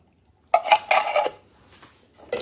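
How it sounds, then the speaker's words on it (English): A spoon stirs chili mac with drained kidney beans and Baja corn in a pot, making a quick cluster of clinks and scrapes against the metal, then a brief pause and one more knock. "Just going to stir that up."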